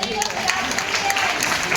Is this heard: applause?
yes